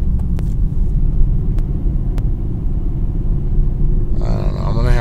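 A car with a clutch noise that stops when the clutch pedal is pressed: a steady low engine rumble runs throughout, with a few brief clicks early on and a rougher whirring burst near the end.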